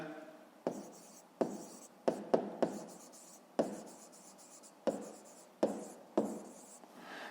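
A pen writes on paper in a fifth-grade math lesson, with a series of sharp scratchy strokes and taps recurring irregularly, close and fairly quiet, with no talk over them.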